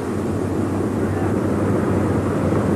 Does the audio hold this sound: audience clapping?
no